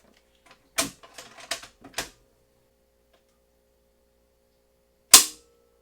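A rifle trigger is dry-fired during a trigger pull test, giving a cluster of sharp mechanical clicks and snaps, followed after a pause by one louder crisp click, close and alone.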